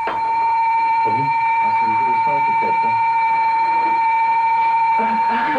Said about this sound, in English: Apart from an increase in group interaction as they discuss what the bell might mean, there's little other reaction.